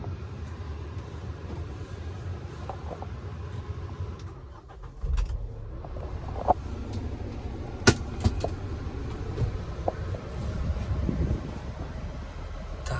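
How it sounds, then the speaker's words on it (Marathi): A Mahindra Thar SUV driving around a village, its steady engine and road rumble continuous and moderately loud, with occasional clunks and rattles from the cabin and no talking. "थार चालवले आज वाटतं एकदम आपण हातीच चालवतोय"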